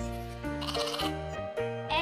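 A goat bleats in short, wavering calls over steady background music in a children's alphabet lesson, with a voice speaking between the calls.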